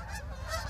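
Canada geese honking near a lakeshore, a brief burst of nasal calls at close range with faint outdoor background.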